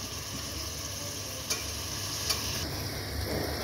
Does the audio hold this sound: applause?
no